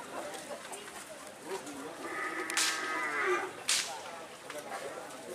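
Cattle lowing amid a Karapan Sapi bull race crowd in Madura, two drawn-out moos rising over steady background noise and murmuring voices, moderately close.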